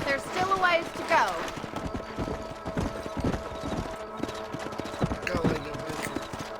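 Horses gallop in Red Dead Redemption, with rhythmic hoof clip-clops pounding steadily throughout, a whinny early on, and voices talking over the riding.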